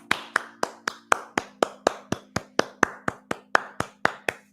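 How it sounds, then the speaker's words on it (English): One person claps alone, giving about eighteen crisp, evenly spaced hand claps close by over a faint steady hum. "I clap for myself."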